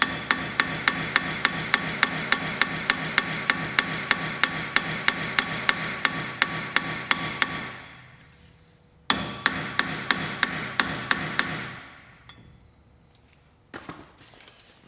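Steady, rapid hammer blows ring out while front brake discs are changed on a diesel Peugeot 205, a long run of sharp metallic strikes, a short pause, then another burst and a few scattered knocks, close and loud with no talk.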